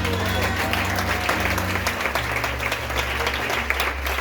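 A church congregation claps in praise during a sermon, dense and steady applause filling the room alongside a sustained low musical drone.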